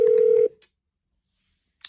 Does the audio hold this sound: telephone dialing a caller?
yes